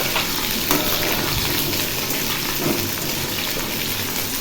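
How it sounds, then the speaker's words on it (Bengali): Fish fries in an oiled pan with a dense, continuous, close-up sizzle, like heavy rain. It carries on evenly with no talk over it. "মাছটা ভাজা হোক।"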